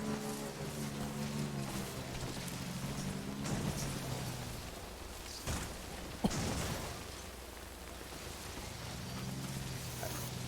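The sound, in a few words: rain in the video game Death Stranding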